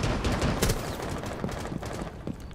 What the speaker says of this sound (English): Someone literally shooting from there.